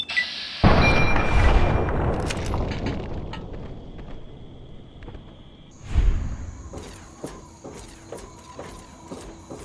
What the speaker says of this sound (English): Did you just chuck a grenade?